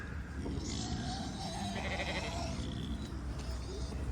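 Several sheep bleat at moderate distance over a steady outdoor background hum, with calls overlapping and rising and falling.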